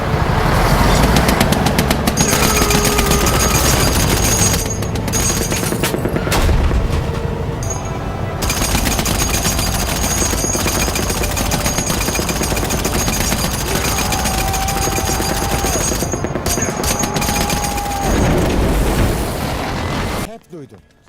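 Rapid machine gun fire from a helicopter during the July 2016 Turkish coup attempt, dense continuous loud bursts running almost throughout with booming impacts, shouts and talk over it, stopping abruptly at the end.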